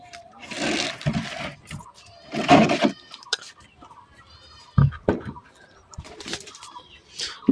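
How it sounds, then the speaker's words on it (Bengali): Pigeons let loose on a rainy Eid morning coo and flap near the microphone in scattered bursts, with wingbeats and soft calls separated by quiet gaps. "এখন আমরা আমাদের কবুতরগুলো ছাড়বো।"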